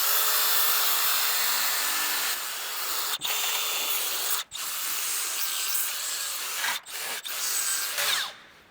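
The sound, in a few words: finger grinder power file grinding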